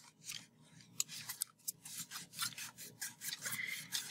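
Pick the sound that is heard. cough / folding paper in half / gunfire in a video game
folding paper in half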